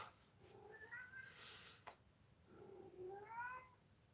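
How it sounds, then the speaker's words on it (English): A cat meows twice, drawn-out and wavering, the calls fairly faint and separated by a short pause, with no talk over them. "Can you hear the cat?"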